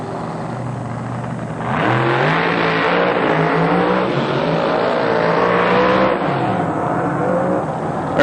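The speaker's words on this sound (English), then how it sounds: "There's Art Gallant doing his burnout coming at you" An Oldsmobile drag racing car at an NHRA national event doing a burnout, its engine roaring loud and sustained with rising revs for several seconds before easing off.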